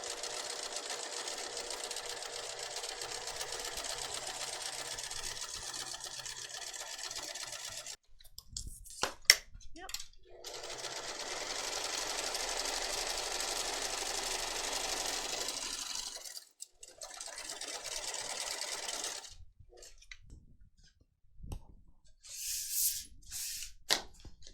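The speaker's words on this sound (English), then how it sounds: "Now we're going to sew down side, side, and across the bottom." A sewing machine stitches down both sides and across the bottom of a backpack pocket, running in long steady bursts with brief pauses and handling noises between seams.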